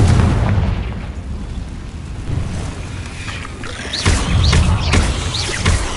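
Booming fire-spell blasts from Hogwarts Legacy's Confringo curse ring out in a cave, several heavy explosive thumps with swooping whistles over a rumbling, watery ambience.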